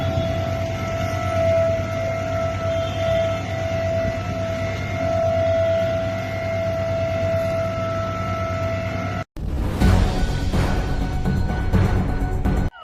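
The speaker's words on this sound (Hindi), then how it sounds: "आईटीओ के आसपास सायरन की आवाज" Sirens wail around ITO in Delhi in a steady, sustained tone with a faint higher harmonic, distant and droning for about nine seconds before an abrupt cut to a noisier, broadband passage.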